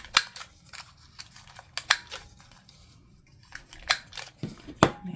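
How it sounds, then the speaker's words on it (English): Scissors snip the corners of small paper gift tags in a crafting session, sharp crisp clicks coming in irregular bursts close to the mic, with a few quieter rustles of paper between cuts. "I have to use my scissors to finish clipping those"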